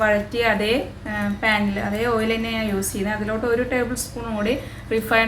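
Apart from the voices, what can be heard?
No everyday noise stands out behind the speech.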